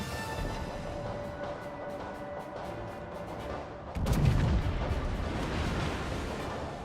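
Heavy naval guns boom from a battleship in World of Warships, a Gascogne under torpedo attack from a Kiev destroyer, with a steady rumbling bed of game noise and a louder burst of fire roughly midway.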